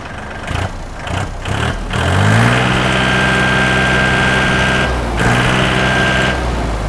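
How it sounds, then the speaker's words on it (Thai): A used Iseki 42 hp tractor engine catches and settles into a loud, steady running note, then revs with a brief dip before climbing again, heard up close with no talking. "สตาร์ทติดง่ายอ่ะเร่งให้ดูหน่อย"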